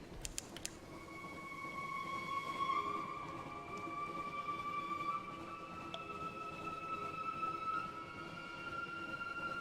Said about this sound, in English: My ship sounds like a train.